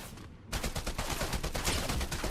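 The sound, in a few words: gunfire from an AI enemy in a video game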